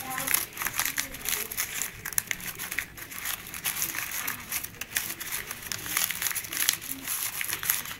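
Newspaper crinkled and ripped by hand while shaping paper flowers, a close, continuous rustling and crackling with short tearing bursts.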